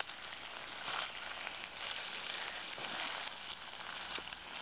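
Potatoes sautéing in a pan on a hot rocket stove, a continuous bright sizzling hiss that stays fairly even throughout with faint crackles, nobody speaking.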